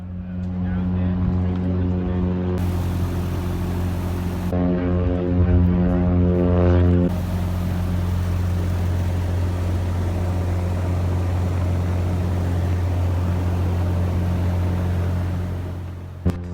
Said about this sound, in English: And we have a takeoff.